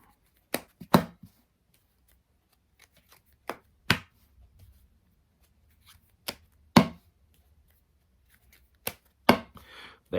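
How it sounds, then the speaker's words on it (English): Scattered sharp card taps and snaps from a swing cut of playing cards, a handful of separate clicks spaced out over quiet, close up with no voices. "And here's the swing cut."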